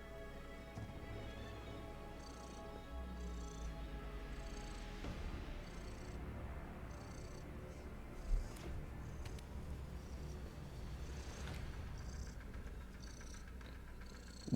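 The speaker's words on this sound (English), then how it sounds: "My kitty is happy. Look, she's so happy. She's purring. You can hear her." A pet cat purrs softly and steadily up close, a faint continuous rumbling purr that runs throughout with no one talking.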